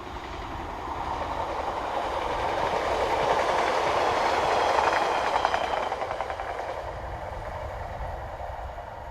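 Class 142 unit paired with Class 153 number 353 on a local service, passing at a moderate distance with a rising and fading rumble and rhythmic wheel clatter over the rails.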